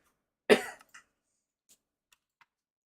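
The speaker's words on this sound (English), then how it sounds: "Cough." A single sharp cough rings out close and clear in an otherwise quiet room, followed by a few faint clicks.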